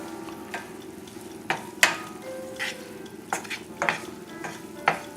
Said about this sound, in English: Just cook the onions slightly.